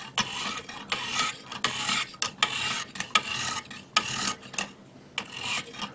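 A hunting knife is ground on a medium sharpening stone in repeated rasping strokes, about ten quick back-and-forth scrapes, close and fairly loud with short pauses between passes.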